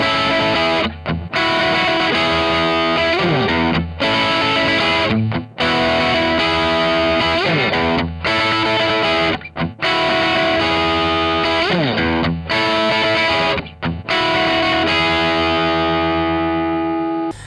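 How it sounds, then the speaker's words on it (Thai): A heavily distorted electric guitar plays a chunky, driving intro riff, with short breaks between phrases, loud and continuous. "เป็นเป็นลิฟกีตาร์ที่ฟังแล้วมันอร่อยมาก"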